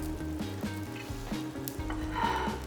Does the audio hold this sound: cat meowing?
no